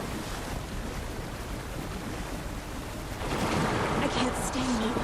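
Water in the video game Alan Wake 2, a steady wash of surf and waves with wind-like hiss that swells louder partway through, with faint tonal game effects rising near the end.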